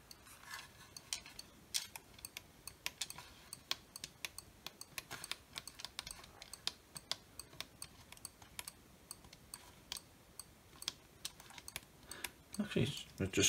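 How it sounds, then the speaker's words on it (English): A faulty vintage Mattel Soccer handheld game clicking, with quiet, irregular mechanical ticks and taps close by, spaced unevenly and growing busier toward the end. "Oh, actually, it's clicking."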